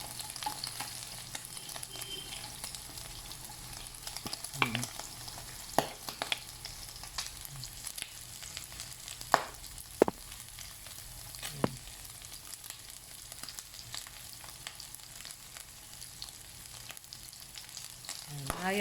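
Onions frying in rendered pork fat for Filipino pinakbet give a steady low sizzle, with occasional soft stirring clicks and small pops throughout, heard alone at moderate volume.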